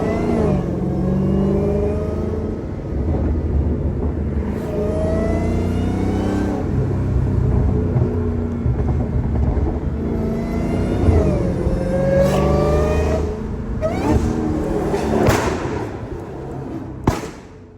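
A Dodge Hellcat's engine revs hard and roars continuously, rising and falling through repeated acceleration sweeps with a few sharp pops and thuds, loud and close without any talk.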